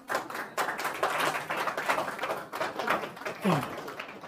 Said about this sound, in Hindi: तालियां ज़रूर बजाइए